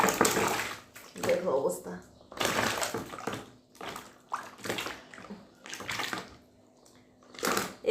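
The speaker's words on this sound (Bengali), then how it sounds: "জল দেওয়ার সাথে সাথে লাফালাফি শুরু করে দিছে।" Live climbing perch (koi fish) splashing and thrashing in water just poured over them, wet slaps and sloshes in bursts, with people talking close by throughout.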